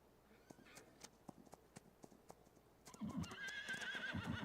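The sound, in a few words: horse hooves clip-clopping in a video game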